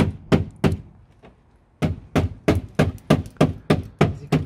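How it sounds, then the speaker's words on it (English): A hammer strikes the rear wheel arch of a 1993 Subaru Impreza WRX STI GC8, giving sharp metallic thunks close by: two blows, a pause, then a steady run of about eight more. "So we've got the hammer."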